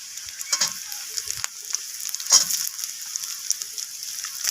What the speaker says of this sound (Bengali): আলুগুলোকেও পেঁয়াজের সাথে নাড়াচাড়া করে ভেজে নিচ্ছি